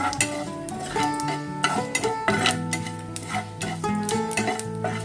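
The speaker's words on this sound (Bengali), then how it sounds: "সরষের দানাগুলো ফাটতে শুরু করেছে।" Mustard seeds and dry curry leaves crackle and sizzle in hot oil as a spoon scrapes and clinks rhythmically against the metal pan, close and moderately loud.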